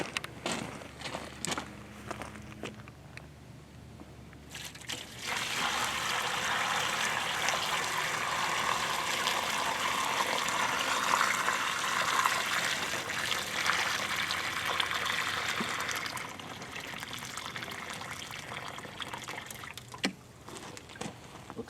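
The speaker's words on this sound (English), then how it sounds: "So I'm going to pour it in there and see how much water I want." Hot water pours into a bucket in a steady, gushing stream for about ten seconds, with quieter handling knocks and shuffling footsteps before and after.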